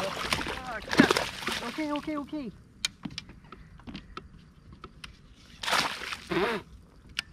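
Water splashes and sloshes in a few bursts as a hooked largemouth bass thrashes in thick cover, with people talking and exclaiming over it and scattered sharp clicks in between.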